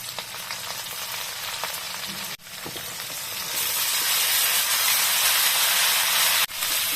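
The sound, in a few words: frying food in oil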